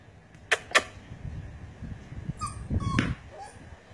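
A puppy about five weeks old gives a few short, high whimpers and yips among light rustling and knocks, close by and fairly quiet.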